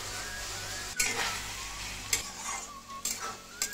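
Cumin and turmeric spice mix sautéing in a pan for a paneer and cauliflower bhog khichuri, a soft steady sizzle broken by a few sharp scraping knocks of a spoon, with no talking.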